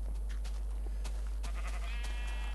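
Minecraft sheep bleat in the game amid a steady low background hum, with a few short, moderately faint bleats scattered over a couple of seconds.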